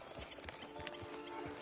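Horse hooves clip-clopping at a slow walk in the Red Dead Redemption 2 video game, a few soft rhythmic thuds under faint background ambience.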